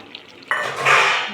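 A spoon scrapes and stirs roasted gram flour into a vegetarian potato and taro dish in a cooking pot, one short close clattering stir with a faint sizzle.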